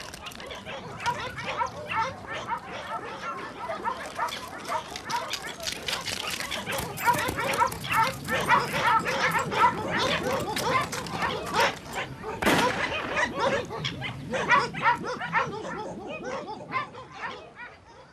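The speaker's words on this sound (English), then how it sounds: "Dogs are employed to track the pumas that cross into the ranches and often follow even when the puma crosses back into the park" Hunting dogs tracking pumas near Andean ranches bark and yip repeatedly in a dense, continuous outdoor chorus, with overlapping calls and a sharp burst partway through, alongside possible voices.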